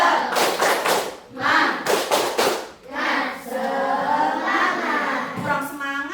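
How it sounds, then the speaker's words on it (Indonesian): A group performs a rhythmic clapping chant together, voices and patterned claps in bursts of a few beats, then a chanted phrase over sustained clapping, loud and close. "Lalu sebelumnya kita tepuk semangat dulu yuk"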